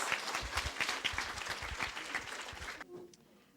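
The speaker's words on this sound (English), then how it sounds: "Applause to her." Applause from an audience in a classroom fills most of the clip as dense clapping close by, then cuts off abruptly near the end, leaving a faint quiet tail.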